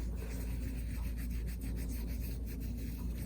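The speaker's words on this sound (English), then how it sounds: "So here is just gently rub. Just keep rubbing until the marking comes off." A wipe loaded with saddle soap rubs back and forth over the white multicolor leather strap of a Louis Vuitton Noe bag. The soft, continuous scrubbing friction is steady and close, with no talking.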